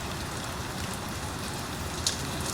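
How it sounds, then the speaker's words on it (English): Rain picking up falls steadily, a dense even hiss of drops on surfaces with faint patters, continuous and moderately close with no voices. "enjoying the sound of rain here now that it's picking up"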